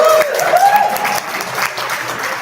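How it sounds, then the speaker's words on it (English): Brief round of applause from a conference audience at a TeachMeet for a sponsor, a short burst of clapping with a few voices murmuring faintly beneath it. "can we please give a round of applause for Discover the World Education"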